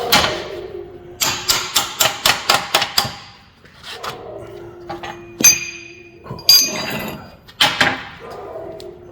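A hammer strikes quarter-inch steel laser-welded T and lap joints, first in a quick run of about eight evenly spaced metallic blows, then a few scattered louder ringing clanks and clinks, close and sharp.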